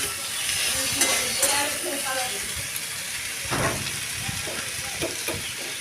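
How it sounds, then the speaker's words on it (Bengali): Potato, tomato and ground spices fry and sizzle in a pan while being stirred, a steady hiss punctuated by scraping strokes of the spoon, with a voice talking faintly at times. "লবণ দিয়ে আবারও ভালো করে এটাকে নাড়াচাড়া করে নিতে হবে"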